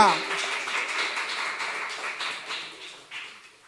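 Church congregation applauding after a sermon during a communion service, a dense steady patter of many hands that fades gradually toward the end.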